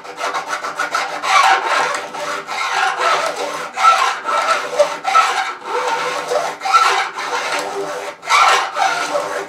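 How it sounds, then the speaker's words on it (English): Steady back-and-forth rasping of a metal file working the ends of guitar frets, in quick regular strokes, close and clear with no talking. "So you're better off filing down than trying to nip them down."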